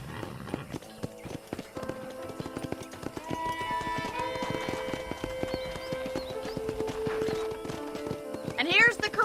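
Rapid clip-clop of horse hooves trotting steadily in Red Dead Redemption, with music playing underneath, ending in a horse's whinny.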